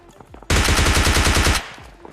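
Rapid automatic gunfire in a battle royale video game on a stadium hot drop: a single burst of about a dozen sharp shots lasting roughly a second, loud and close, with quieter game noise around it.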